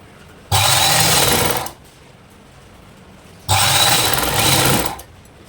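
A sewing machine stitches layered blouse cloth along a side seam, running loud and close in two steady bursts of about a second or more each, with quiet pauses between them.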